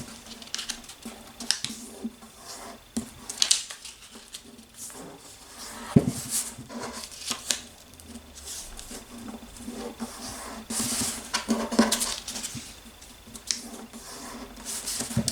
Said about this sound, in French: c'est qu'on va plier les coins pour qu'ils soient au centre.